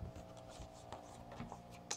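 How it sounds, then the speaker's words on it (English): Scissors cut along the score line of a paper file folder, making soft, faint snips and papery rustling close by in a quiet room. "Cut along the score line here and cut off this little spine area"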